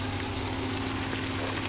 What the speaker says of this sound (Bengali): আমাদের চিংড়ি মাছ প্রায় ভাজা হয়ে গেছে।